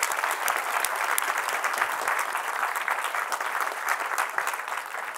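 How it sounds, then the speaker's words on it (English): Sustained, loud audience applause fills the whole stretch with steady, dense clapping and no talking, honouring event organizers at an outdoor gathering's opening remarks. "A round of applause for our organizers."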